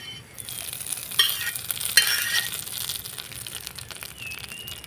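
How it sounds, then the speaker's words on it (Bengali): A curry leaf tempering is poured into chutney and bursts into a loud hiss that rises quickly after a brief quiet start. A couple of sharp crackles follow, then a steady sizzle gradually fades. "তুলে নেব তো চাটনির মধ্যে দিয়ে দিব ফোড়নটা"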